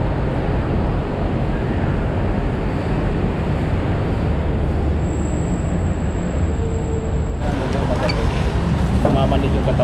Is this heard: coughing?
no